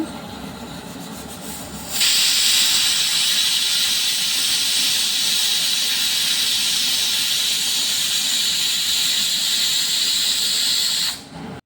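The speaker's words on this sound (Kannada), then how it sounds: "ಇದನ್ನು ಕುಕ್ಕರಲ್ಲಿ ಬೇಯಿಸಬೇಕು" A pressure cooker cooking chicken liver and gizzard lets out a sudden, loud, sustained steam hiss that starts after a quieter moment, holds steady for about nine seconds, then cuts off abruptly, with no talking.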